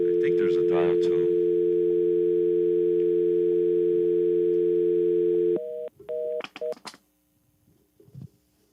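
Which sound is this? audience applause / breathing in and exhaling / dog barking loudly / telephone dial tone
telephone dial tone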